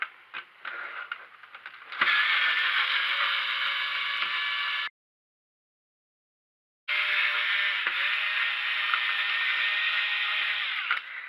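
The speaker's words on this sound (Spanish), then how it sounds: "vamos a quitar los de color plata. Esto se hará con una punta de estrella" Silver screws on a PS3 Slim console being undone with a Phillips screwdriver: steady close clicking and ratcheting mechanical sounds in two sustained bursts separated by a few seconds of silence.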